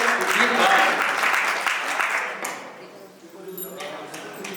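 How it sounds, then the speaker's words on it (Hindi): A seated audience at a Hindi poetry recital claps loudly for a saint on stage, a dense burst of applause that thins and fades out over a few seconds. "एक बार आप संत के लिए जोरदार ताली बजाइए"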